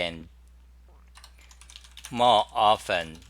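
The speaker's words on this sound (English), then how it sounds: "than just typing letters like this" Someone types on a computer keyboard, a quick patter of clicks heard close up during a pause between stretches of speech.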